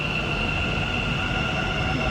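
A Bangalore metro train rumbles steadily and close by, with a constant mid-range hum and a high whine above the rolling noise and no voices.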